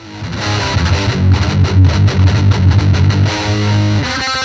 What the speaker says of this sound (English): a heavier version of it called the metal pedal